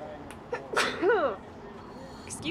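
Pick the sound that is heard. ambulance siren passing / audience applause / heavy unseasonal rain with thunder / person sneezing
person sneezing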